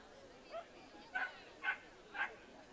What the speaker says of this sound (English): This is a Cocker Spaniel.